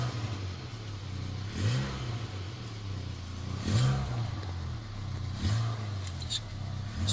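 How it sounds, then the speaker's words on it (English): A 1988 Volkswagen Cabriolet engine idles steadily close by, its low hum swelling in brief rev-like surges about every two seconds, with no one talking. "I'll put the camera out here so you can hear how it sounds."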